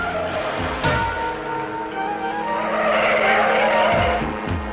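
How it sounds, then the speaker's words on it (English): A sports car skids out of control with squealing tires and a revving engine, loud and close, the screech rising and sweeping over a few seconds. "There's a sports car down there out of control."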